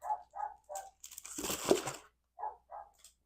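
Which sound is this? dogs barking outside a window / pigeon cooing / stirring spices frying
dogs barking outside a window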